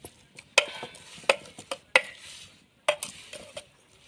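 A glass stirring a homemade dye mixture for a scarf makes sharp, close clinks and taps at an irregular pace, with softer scraping between the hits.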